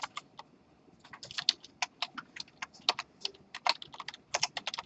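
Close, crisp typing on a computer keyboard, in irregular bursts of quick keystrokes with short pauses, alone and clearly audible.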